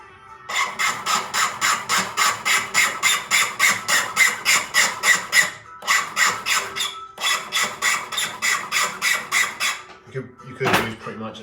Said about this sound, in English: use a cut 2 half round, the flat side of cut 2 half round ring file to get rid of the bevel